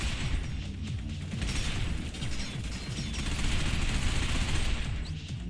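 Sustained gunfire from the video game Binary Domain, a steady dense clatter of rapid shots running the whole time beneath a layer of game sound and mechanical noise.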